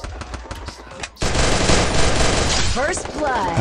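Rapid automatic gunfire from the battle-royale video game Free Fire, a dense sustained burst of loud shots after a few scattered pops, with faint game effects near the end.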